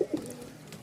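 Lahori pigeons, one ash or silver and one black pair, giving soft low coos close by, a couple of brief murmuring calls at the start over a quiet background.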